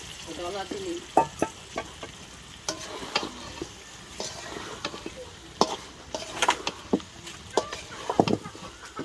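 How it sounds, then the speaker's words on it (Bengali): Fish rubbed with salt sizzles and crackles in a hot pan in a home kitchen in Jhalakathi, Barisal, with steady frying hiss broken by sharp, irregular pops and stirring scrapes close up, and faint voices now and then. "নুন দিয়া মাছটি রে কষাইয়া দিবি"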